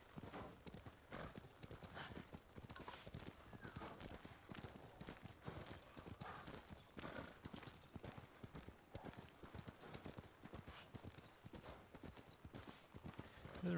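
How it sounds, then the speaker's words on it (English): Hoofbeats of a horse trotting through deep snow in Ghost of Tsushima, a quick, even clip-clop that runs nonstop and stays faint throughout. "It has to suck for the horse riding in all the snow."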